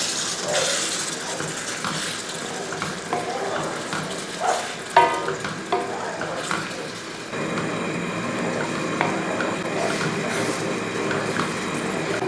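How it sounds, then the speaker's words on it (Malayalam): Chicken parts curry being stirred in a pan, with a steady soft sizzle and scraping spoon strokes clustered in the middle, moderately close. "നമുക്ക് തുറന്ന് നോക്കി ഒന്ന് ഇളക്കി കൊടുക്കും."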